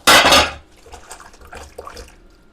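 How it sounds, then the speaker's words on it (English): Brief clatter and splash at a kitchen sink, then softer trickling and rubbing as hands are washed under running tap water, close and short. "I'm just going to go and wash my hands."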